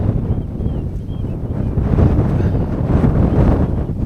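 Strong wind at a coastal nature reserve buffets the microphone in a steady, loud low roar that surges and eases without pause.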